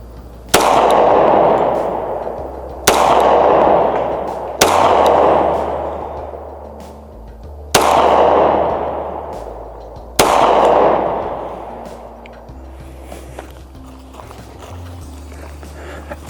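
Five loud, sharp pistol shots from a Girsan 2311 Brat .45 ACP, fired slowly and evenly at a range, each ringing out with a long decaying echo before the next.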